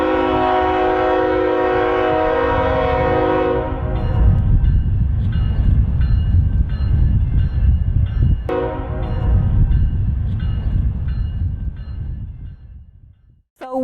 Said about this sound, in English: the unmistakable sound of railroad engines